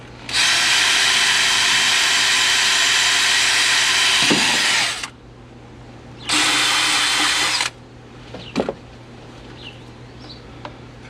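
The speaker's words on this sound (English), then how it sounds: "Just drilling a hole for the injection nozzle." Power drill boring a hole for a nitrous injection nozzle during a NOS install on a 2003 Silverado, two loud close high-pitched whining bursts of about four and one and a half seconds, followed by a few faint clicks.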